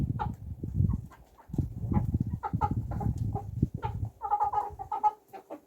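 Hens, black and white, cluck and murmur close by in a loose, uneven rhythm in winter, with a few higher clucks near the end.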